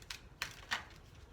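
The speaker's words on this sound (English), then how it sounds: "I feel very even flow as I shuffle your cards." Tarot cards being shuffled in quick separate riffles, three crisp flicks in close succession, soft and close with no talk.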